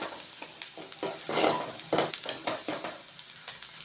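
Onion for Gobi Manchurian sizzles in a pan while a spoon stirs it in quick scraping strokes, the frying hiss rising and falling under the rhythmic clatter, close and moderately quiet.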